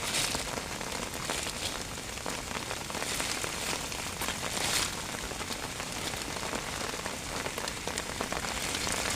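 Rain pours down steadily, a dense, even patter on surfaces that continues without a break.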